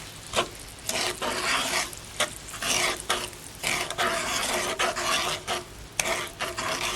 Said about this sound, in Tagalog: Then, itong brown sugar. Then, hahaluin po natin.